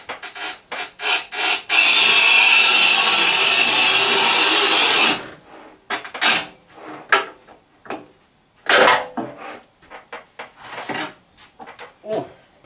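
A manual tile cutter with an 8 mm scoring wheel runs across a tile in a long, steady, loud grinding scrape, framed by clacks and knocks of the handle and breaker before and after.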